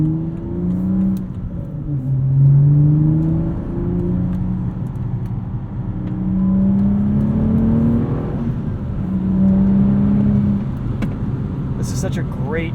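Modified 2016 BMW 435i with a six-speed manual gearbox pulling hard on turbo boost, the engine note rising through the revs in repeated surges, heard from inside the cabin with someone talking over it.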